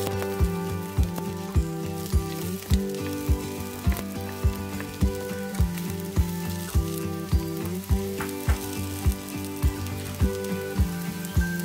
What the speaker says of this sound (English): fry the onions